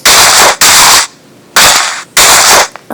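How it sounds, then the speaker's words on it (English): Video game explosions go off in a New Year's celebration: four loud, harsh noise bursts in quick succession, each cut off sharply, separated by short quiet gaps. "Cause really, I wanna have some explosion"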